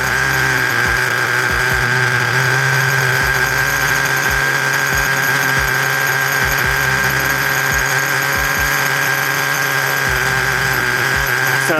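An OS 15CV-R nitro engine in an HPI Nitro RS4 radio-controlled car idles loud and close, a high, buzzy, constant whine with a rapid rattling pulse and no speech.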